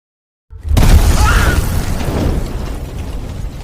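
Film explosion as fire reaches gunpowder stored for making firecrackers inside a burning house: a sudden loud boom after brief silence, followed by a long roaring, crackling rumble that slowly fades.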